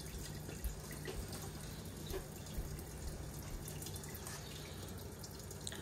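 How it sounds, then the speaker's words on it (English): Steady broadband rush of running water filling a cooking pot, continuous throughout with faint drips and clinks, moderately quiet. "we will watch water fill up in a pot"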